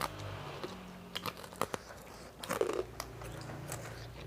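Someone bites and chews crunchy home-fried snacks up close, making irregular crisp crunches and crackles that rise and fall, with no talking over them.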